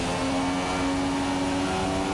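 McLaren Formula 1 car engine at the Brazilian Grand Prix in an F1 racing video game, a loud, steady high-pitched whine holding a near-constant tone for about two seconds.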